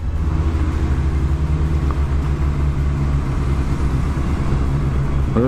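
A 2017 Kawasaki Z900 motorcycle engine hums steadily while riding, a continuous low droning rumble with wind noise, fairly loud and unchanging, with no talking.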